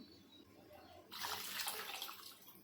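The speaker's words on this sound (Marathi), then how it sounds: "पाणी टाकून घ्या" After a moment of quiet sizzle, water pours into a pan for fish curry with a sudden, loud rushing splash that continues steadily to the end.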